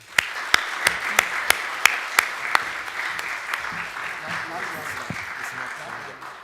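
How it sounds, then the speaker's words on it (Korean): A church congregation at a Sunday service claps to welcome a visiting guest pastor, with sharp, fairly regular claps that are clear at first, then thin out and fade under a low murmur. "우리 박수로 환영하겠습니다"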